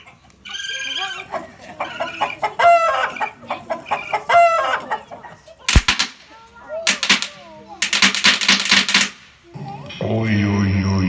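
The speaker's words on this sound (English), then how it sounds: "this stuff gets my chickens to squawking" Chickens squawk and cluck loudly at a forest campground in a run of sharp, repeated calls, followed by harsher, noisy bursts and a sustained squawk at the end.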